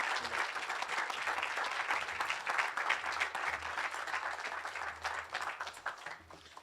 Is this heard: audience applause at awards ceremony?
yes